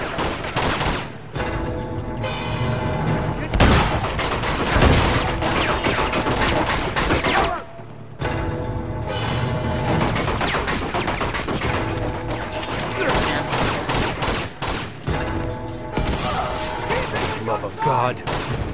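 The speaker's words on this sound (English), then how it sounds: "There's a machine gun over there!" Dense machine-gun fire and bursts of gunshots rattle through a firefight in the Uncharted 2: Among Thieves video game, loud and nearly continuous with brief lulls, mixed with crashes and impacts while voices talk over the action.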